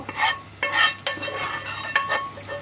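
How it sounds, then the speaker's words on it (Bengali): Whole dried chillies hitting hot oil for tempering, a crackling sizzle with several sharp spitting bursts spaced about half a second apart, close and moderately loud, with light utensil clinks. "এখন আমি একবার ফোড়ন দিব"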